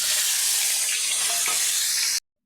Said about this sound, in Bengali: আলুটা আমি ভাজতে দিয়ে দিয়েছি